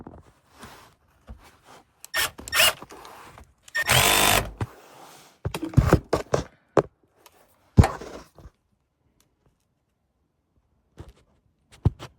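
Power drill driving two self-tapping screws into the rear of a Zunsport oil cooler guard on a BMW G87 M2, with close, loud bursts of whirring and pauses in between before falling quiet.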